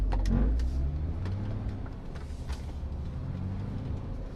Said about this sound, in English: this truck does sound like a bag of shit